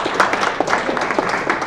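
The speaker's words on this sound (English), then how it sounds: "Round of applause." A small audience at a Python programming meetup claps in a brief, steady burst of applause, dense and fairly loud throughout.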